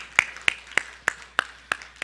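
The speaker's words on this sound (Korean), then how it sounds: "우리 주님께 영광의 박수 올려드리겠습니다" Seven or so sharp, evenly spaced claps ring out in a church service, a single rhythmic pattern of crisp hand strikes about a third of a second apart, close and clear with no talk over them.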